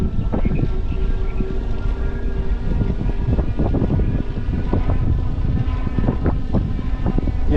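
A steady Mokwheel Slate electric bike motor hum runs throughout with buffeting wind noise and rattling, fairly loud and continuous, recorded while riding outdoors.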